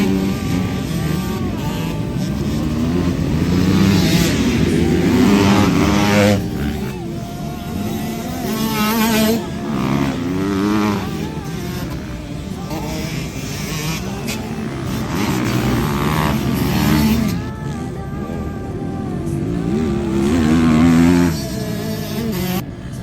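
Several motocross bikes race through the rutted first heat at Hellange, their engines revving and shifting pitch continuously, loud and close, with a few voices faintly mixed in.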